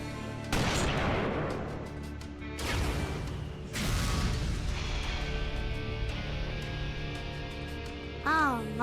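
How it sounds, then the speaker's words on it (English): Cannon fire in Fuga: Melodies of Steel 3 booms in three heavy blasts spaced a second or so apart, each trailing into a long ringing decay over a droning tank hum, ending with a warbling tone. "Roger. Firing warning shots."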